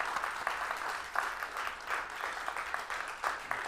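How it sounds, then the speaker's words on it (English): Audience applause at a caregiver self-care event on Alzheimer's, a dense steady patter of many hands clapping with occasional louder bursts, moderately loud and continuous without talk. "Please join me in giving Marty, Governor Schreiber, the biggest round of applause"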